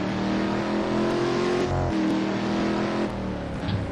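A race car at Anderstorp, in an STC Black Cup event, drives across the finish line; a loud, steady engine drone with shifting pitch, close and continuous, with no talk.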